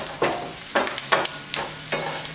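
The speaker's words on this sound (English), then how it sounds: "You can also just stir it." Vegetables sautéing in a hot pan, a bamboo stirrer scraping through them in four or five rhythmic strokes over a steady low sizzle, close and clear with no voices.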